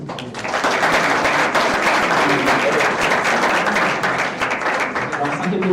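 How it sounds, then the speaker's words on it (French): An audience claps for a presenter at a startup pitch event in Tarbes, loud and dense sustained applause filling the whole stretch, with voices mixed in underneath. "vous pouvez l'applaudir"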